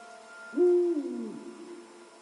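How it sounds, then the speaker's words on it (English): An owl hoots in a PS5 video game, one clear, loud, low hoot that swells and slowly fades, heard alone against a quiet background. "This is an owl."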